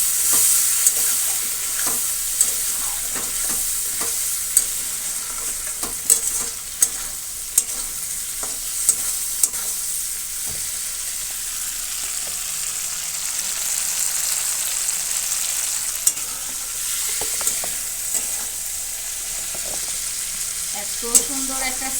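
Prawns, slit green chillies and taro frying with cumin in a pan, stirred steadily, giving a continuous close sizzle with scattered sharp clicks of the spoon against the pan throughout.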